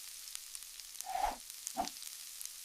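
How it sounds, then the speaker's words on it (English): Garlic and onions sautéing in sesame oil give a quiet, close sizzle, with two brief louder swells of frying as the pan is stirred, otherwise a soft steady background hiss. "Sauté garlic and onions in sesame oil."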